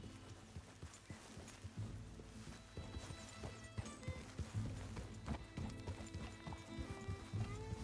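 Horse hooves clip-clop steadily in the Red Dead Redemption 2 video game, mixed with game ambience and occasional whinnies, at moderate loudness throughout.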